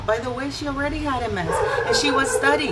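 Several dogs bark and yip in the background of a home, their short, repeated barks sounding under continuous close talk from a woman.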